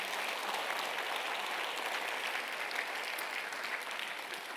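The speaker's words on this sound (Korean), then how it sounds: "하나님께 영광의 박수 한번 올려드리도록 하겠습니다." Steady applause from a church audience fills the hall, dense and even throughout, with no voices rising above the clapping.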